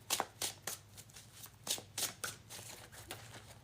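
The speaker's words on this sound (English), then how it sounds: "let me draw one last card to wrap up the message" Oracle or tarot cards are shuffled and drawn in quick, crisp riffles and flicks, a series of soft papery bursts close by in a quiet room.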